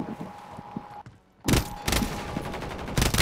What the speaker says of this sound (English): I'm getting shot by two of them.